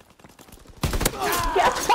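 Video game gunfire arrives in a sudden burst of rapid, loud shots after a quieter stretch of clicking, and it keeps going in a dense, continuous volley.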